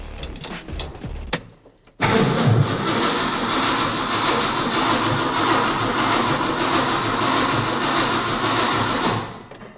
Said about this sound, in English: I'm gonna fire it up one more time.